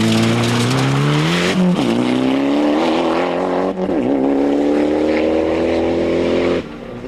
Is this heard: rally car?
yes